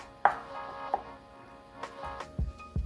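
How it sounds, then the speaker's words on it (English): Knife chopping a tomato on a board while preparing Jamaican callaloo: a few sharp, separate cuts spread across a quiet moment, with two solid low thuds near the end. "Then you cut up your tomato."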